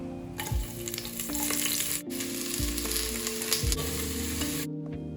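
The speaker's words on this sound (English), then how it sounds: "Add 2 finely chopped onions and saute well until it turns slightly brown." Finely chopped onions sauté in hot oil and ghee for mutton biryani in a pressure cooker, a steady loud sizzle broken by repeated scraping stirs.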